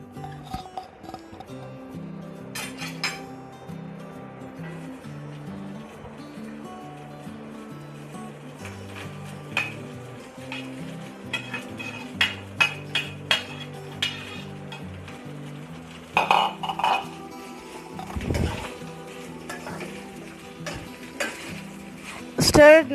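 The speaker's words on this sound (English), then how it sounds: "we are going to stir fry the rice" Boiled basmati rice stir-fried in a pan for vegetable fried rice: repeated spatula scrapes and light sizzling over steady background music, with heavier clatter and scraping near the end.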